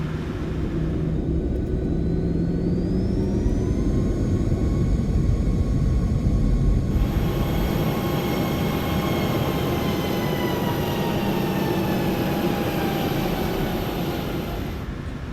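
A PMDG 737 taxiing in Microsoft Flight Simulator 2024, a steady engine drone with whining tones that shift upward early on, then a broader, louder rumble.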